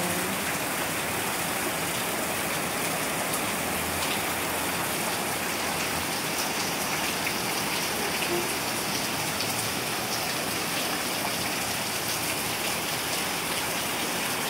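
Heavy monsoon rain pours steadily with floodwater rushing, a dense, unbroken hiss of downpour throughout, loud and close with no voices.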